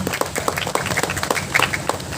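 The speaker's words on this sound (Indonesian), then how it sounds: "Tepuk tangan dulu untuk beliau" Crowd applause at a community children's event in Nganjuk, a brief patter of many hands clapping unevenly at moderate distance, with a faint voice underneath.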